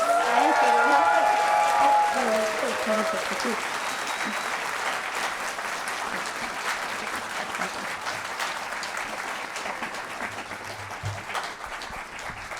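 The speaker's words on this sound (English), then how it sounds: "can we get a big round of applause for Judith Gibbins?" Audience applause fills a convention hall for a guest at a Tomb Raider III anniversary interview, starting loud and steady and continuing for several seconds under a brief spoken thanks, then tapering to a sustained lighter clapping.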